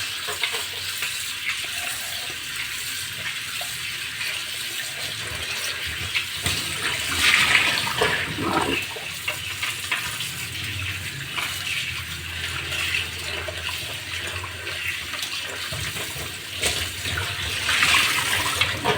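Tap water runs steadily onto prawns being washed in a home kitchen, a loud, continuous splashing rush with brief surges of stronger flow and no talk.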